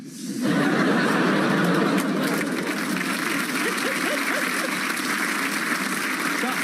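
Studio audience on a comedy panel show breaks into loud, sustained applause mixed with laughter and cheering, starting abruptly and continuing steadily throughout.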